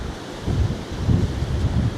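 Strong wind blows across a mountain road in Ilocos Norte, buffeting the microphone in loud, rolling low gusts that swell and ease over a constant roar.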